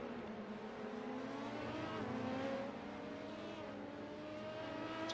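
Race cars in a virtual endurance racing game sweep through the Ford curves, several engines droning and rising and falling in pitch as they pass, a continuous layered whine throughout.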